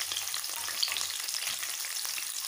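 Onions frying lightly in a pan for a mixed pasta dish, a dense, even crackling sizzle close up that holds steady throughout with no voices.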